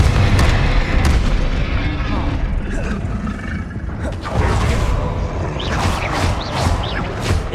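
In Hogwarts Legacy, the Confringo blast spell sets off heavy booming explosions, several in a row, loud and near, over a rumbling, busy game soundscape.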